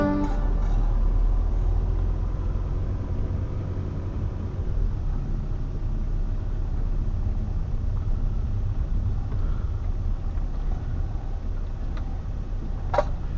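A campervan drives across the sand of Duncannon Beach in Ireland, a steady loud engine and tyre rumble with wind-like noise, plus a couple of faint ticks near the end.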